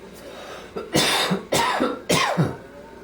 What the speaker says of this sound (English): Nice little sneeze cough